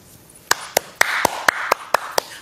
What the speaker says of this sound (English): I'm all by myself, but I'm applauding you here.